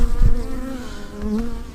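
Bees hum inside a beehive as it is opened for inspection, a loud, steady, close buzzing drone with a slight rise and fall throughout.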